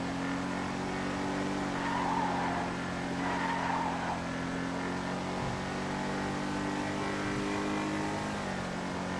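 A tuned Revolter car in GTA V Online drones with a steady engine note while its tires squeal through corners, a continuous loud motor sound with skidding swells and no talking.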